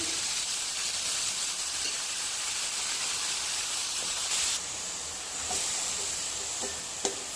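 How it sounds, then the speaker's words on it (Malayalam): Banana stem tossed with curry leaves in hot oil gives a steady, close hiss and sizzle throughout, with a few faint scrapes of stirring and one sharp click near the end; no voices. "കുറച്ച് കറിവേപ്പില ഇട്ട് അതിനുശേഷം വാഴപ്പിണ്ടി ഇട്ട് നന്നായിട്ട്"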